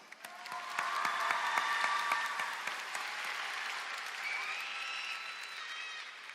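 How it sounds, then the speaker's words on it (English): A crowd at a Mt. Juliet High School graduation ceremony applauds, dense clapping that swells quickly and continues steadily for several seconds, with a few cheers mixed in. "we can give a round of applause to them"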